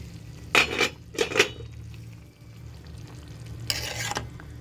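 Food stirred together in a pan on the stove, with a few scraping, clattering stirs of utensil against pan over a low steady cooking sizzle, then a longer stir near the end.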